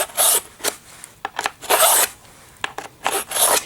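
A GE Carboloy handheld sharpener rasps along a skate blade in a series of short, close, gritty draws, several in quick succession with brief pauses between strokes, no talk.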